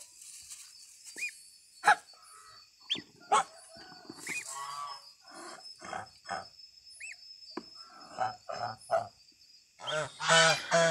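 Bengal geese, an ornamental poultry breed, give a series of short, nasal honks at irregular intervals, some near and some farther off, ending in a louder cluster of overlapping calls.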